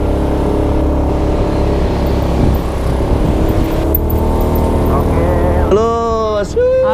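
Electric-converted Honda Beat motorcycle carrying four riders climbs a steep hill, a loud continuous whine and rumble with wind buffeting, while several people shout and talk excitedly near the end.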